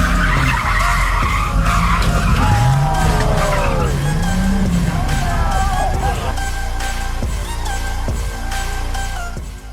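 A Dodge Viper with an 8.4-liter V10 skids out of control, its tires squealing in long rising and falling shrieks over a loud engine roar. Faint crowd chatter sits underneath, and the engine keeps growling after the slide fades.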